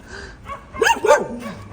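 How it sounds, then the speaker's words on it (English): Dogs on a street in a quiet Ukrainian town bark in a short, close burst of two or three sharp barks with a brief yelp, no talking. "Here also you can see dogs on the street who are barking."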